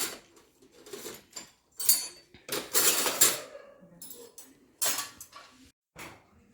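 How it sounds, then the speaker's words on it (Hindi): Steel utensils and vessels clatter and clink as they are set into the racks of an IFB Neptune VX dishwasher, in irregular bursts of close metallic knocks separated by short pauses. "और बाकी भी जो है बर्तन इसमें एक बार को हम सेट कर रहे हैं।"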